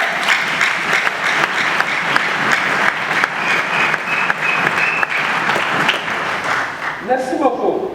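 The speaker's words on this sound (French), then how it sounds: "applaudir Maman Marthe." Sustained applause from a commemoration audience honoring Maman Marthe, a dense, steady wash of clapping that runs almost the whole time and fades as a voice begins to speak near the end.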